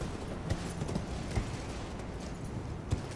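Horse hooves clip-clop softly and irregularly in Elden Ring: Shadow of the Erdtree, a few muffled thuds over a steady low rumble of ambient game noise.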